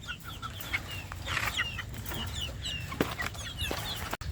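Bulik chickens, with growing cockerels and chicks among them, cluck and chirp repeatedly at feeding time in a steady overlapping chorus, several birds close by against a continuous farmyard background.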